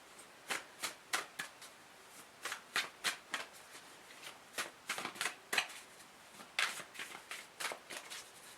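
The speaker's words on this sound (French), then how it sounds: "Je vais peut-être sortir une petite carte de l'oracle noir." Oracle cards being shuffled by hand: a quiet, close series of crisp riffling flutters in uneven clusters, about two dozen short bursts with brief pauses.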